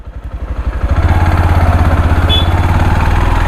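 A motorcycle engine rumbles on a slippery jungle track, building over the first second into a loud, steady, rhythmic low thumping with a slight mechanical clatter, alone and close.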